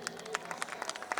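Audience at a Hindi kavi sammelan poetry gathering claps, a quick run of scattered, fairly faint handclaps with a voice murmuring underneath.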